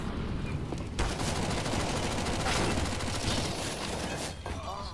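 Rapid automatic gunfire from a CS:GO match fills the scene, a dense continuous rattle of shots lasting throughout with brief denser bursts, loud and close.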